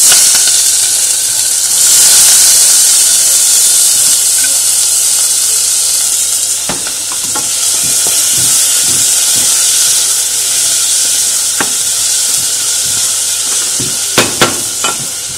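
Chopped onion frying in a little oil in a pan for a fried meat pie filling, giving a loud, steady sizzling hiss with scattered soft pops and clicks of stirring.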